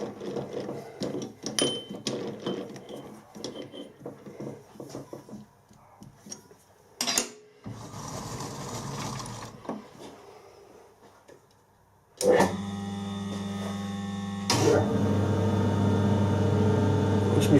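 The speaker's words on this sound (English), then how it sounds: "Just machine the end square first." A machine tool squaring the end of a metal bar in a workshop: scattered clatter and handling noises give way to a steady, loud motor hum with a ringing cutting tone that rises after a few seconds and holds.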